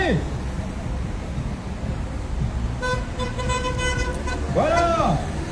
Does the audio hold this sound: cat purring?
no